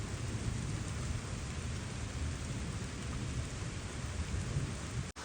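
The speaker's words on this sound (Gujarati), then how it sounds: "વરસાદ આવવા લાગી ગયો બરાબરનો ગાજવીજ થવા લાગી છે" Steady heavy morning rain pours in a dense, constant hiss under a dark, foggy sky, with a low thunderous rumble rolling underneath throughout.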